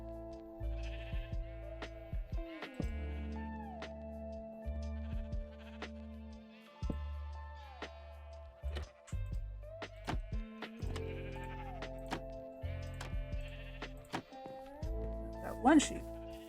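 Blocky Minecraft sheep bleat repeatedly in a family's survival game, the short, tonal in-game calls coming one after another amid other game sounds, with people chatting over and between them.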